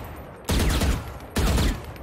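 Gunfire in Valorant: two loud, dense bursts of rapid shots, each close and lasting under half a second, separated by a brief lull with quieter background noise.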